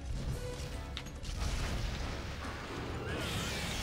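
A heavy bowgun in the Monster Hunter video game fires flaming shots, producing loud, booming blasts with rumbling low-end bursts back to back, no talking.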